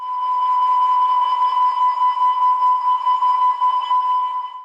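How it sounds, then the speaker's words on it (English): A steady high-pitched electronic tone sounds continuously and loudly as an H2S gas alarm on an offshore platform, pulsing slightly in level with no voices. "The H2S alarm is"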